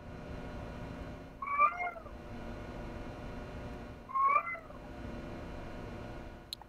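A pet cat meows in a room while a video game is played, giving two separate, moderately loud meows a couple of seconds apart over a quiet background hum.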